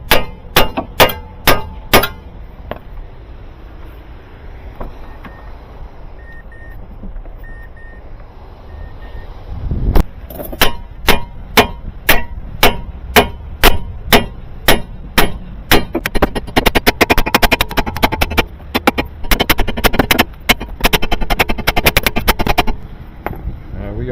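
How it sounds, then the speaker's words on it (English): Repeated hammer blows clanging on metal front suspension parts of a 2008 Mazda3 during a front shock replacement, sharp ringing strikes in irregular bursts, sparser early then rapid and dense, with a pause midway. "We just use a hammer."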